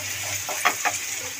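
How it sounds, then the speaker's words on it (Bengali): Tomato with radhuni spice tempering frying in a pan for a bhola fish curry, a short close sizzle with a couple of light stirring clicks, no talking. "ফ্রেন্ডস টমেটোটা ভাজা হয়ে গেছে। ফোড়ন দিয়েছিলাম রাঁধুনি।"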